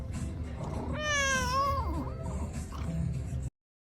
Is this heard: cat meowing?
yes